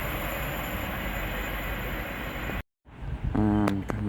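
A Class 700 train roars past Welham Green station on the East Coast Main Line, a loud sustained rush of wheels and traction that cuts off abruptly, followed by brief tonal squeals and rattles.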